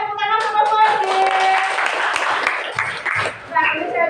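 Classroom applause for a student group, a burst of clapping from children mixed with a teacher's voice and kids talking over it.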